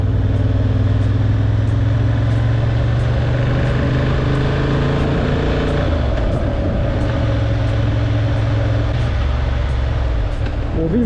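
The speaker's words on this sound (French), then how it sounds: "Ça fait plaisir, même de ce temps-là, de se balader à moto." A motorcycle rides on a wet road, with a loud, continuous engine drone and the rush of tyres close up, holding steady throughout.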